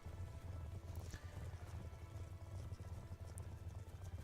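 Horse galloping in the Black Ops 2 video game campaign, with steady rapid hoofbeats over a dense rumbling game soundscape, continuous and fairly even throughout.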